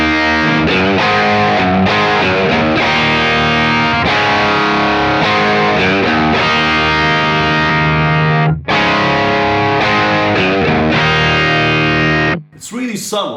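Electric guitar played through a Browne Carbon V2 overdrive pedal set for subtle drive, a full, slightly thickened tone with ringing chords and notes, loud and steady with no talking.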